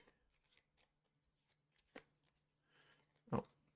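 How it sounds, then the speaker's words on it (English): Threat cards for a board game are shuffled by hand in a quiet room, with faint riffling and a couple of sharp card snaps near the middle and end. "We want to shuffle these."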